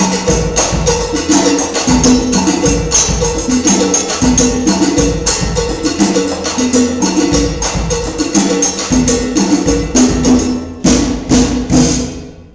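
A steel drum band drives through an Afro-Cuban mambo, bright pan melodies over busy, steady percussion, loud and continuous throughout with a brief break near the end.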